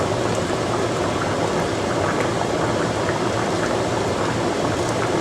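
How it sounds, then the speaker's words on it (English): Onions sizzle continuously in a hot pan for a pork chop dish, a dense, steady crackling hiss at close range with no voices over it. "we just want to saute our onions for them to be clear"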